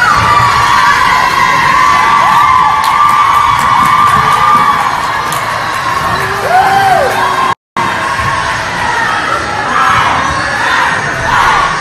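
A crowd at a senior night volleyball game screams, whoops and cheers loudly and continuously, with children's shouts mixed in and a brief dropout partway through.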